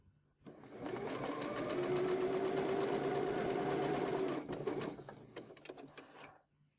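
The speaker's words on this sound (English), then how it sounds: "I'm going to put them in the machine, and with a 1/4 inch seam allowance I'm just going to sew from one end to the other" A sewing machine stitches quilt squares with a quarter-inch seam in one steady whirring run of about four seconds, loud and close, then stops with a few faint clicks.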